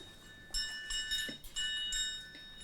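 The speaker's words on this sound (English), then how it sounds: "So, this is our Arcasanti bell." Bright metallic chimes ring out several times with lingering tones, a bronze garden wind bell struck irregularly, fairly close and clear over quiet background.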